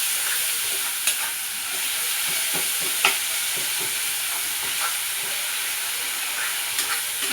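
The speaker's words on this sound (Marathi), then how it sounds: "छान असं मिक्स करून घेतली भाजीला." Leafy greens sabzi of cowpea leaves with onion is stirred in a frying pan, giving a steady sizzle and hiss broken by occasional soft scrapes and knocks of the spoon, with no talking.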